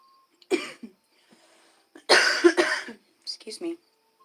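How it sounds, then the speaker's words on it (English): Person coughing in several harsh, close bursts, with a deep raspy fit in the middle and shorter hacks at the end, separated by near silence. "One big excuse me for all my stoner coughing."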